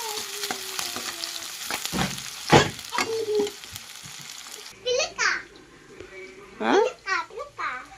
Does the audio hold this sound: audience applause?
no